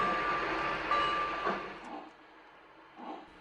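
A Lionel model train runs on a detailed layout, its rolling rumble and a thin steady whistle-like tone strongest at first, then fading away with a few faint clicks and knocks as it moves off.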